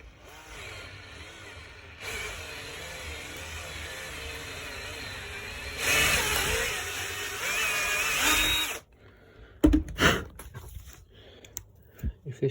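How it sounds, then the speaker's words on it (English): Power drill boring a hole in a Shimano Ultegra front derailleur during a thread repair, a steady whirring motor that rises in pitch and strain midway, then stops abruptly, followed by a few sharp clatters and handling knocks. "Right, so let's just drill a hole."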